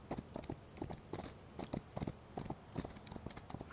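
Cavalry horses in the strategy video game Humankind move in a rhythmic clip-clop of hoofbeats, moderately loud and steady, with no talking.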